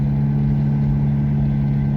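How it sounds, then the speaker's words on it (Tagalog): A fully loaded Toyota Revo diesel engine labours up a mountain road with a steady, heavy low drone and no letup, close and loud throughout. "kasi kargado tayo ng tao kaya medyo hirap na hirap talaga yung makina ayan oh"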